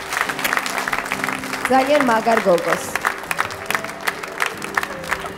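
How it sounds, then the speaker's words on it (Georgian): Audience applause and cheering for Kalda Chincharauli on a Georgian TV ring show, a broad crowd wash running under a host's talk that continues throughout. "აპლოდისმენტები ქალდა ჭინჭარაუს."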